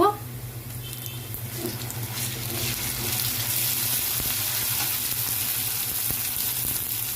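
Garlic paste hits hot oil with browned onions in a pan, and a soft, steady sizzle swells after the first second and then holds as an even hiss.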